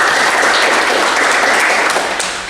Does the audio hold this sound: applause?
yes